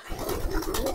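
Mukhi and Kaldom pigeons coo softly and close by in a brief, low, murmuring burst.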